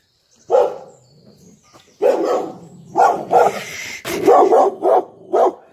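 A dog barks and yips in short bursts, close and loud, with a few quick barks in a row near the end.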